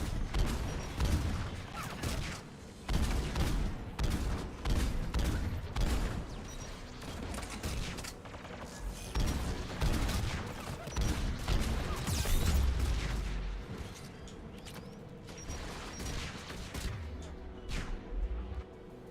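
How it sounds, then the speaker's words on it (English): Anti-aircraft guns in the game Mass Effect keep up a dense, continuous barrage of heavy thumping shots and crashing booms that swell and ease without pause. "AA guns ahead of us."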